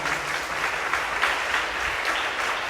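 Audience applause at a youth retreat adoration service, clapping in thanks to God: steady, dense clapping from many hands, fairly near and continuous throughout with no voices over it.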